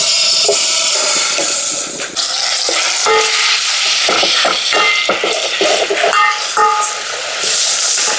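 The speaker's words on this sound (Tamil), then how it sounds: "எண்ணெய் நல்லா சூடாகிடுச்சு. இஞ்சி பூண்டு பேஸ்ட்டை சேர்த்துக்கிறோம்." Ginger garlic paste fries loudly in hot oil in a pan for a mutton dish, a dense, steady sizzle close up with scraping stirs breaking through.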